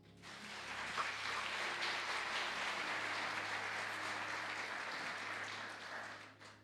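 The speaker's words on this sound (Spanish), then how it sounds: "Dele un aplauso al Señor." A church congregation applauds together during a Spanish-language sermon, a dense, steady wash of clapping that swells quickly and holds for several seconds before tapering off at the end.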